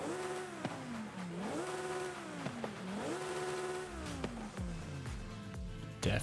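In Forza Horizon 5, a Lamborghini Huracan Evo fitted with a race exhaust revs up and down in repeated sweeps, then gives sharp crackles and pops near the end, loud and close.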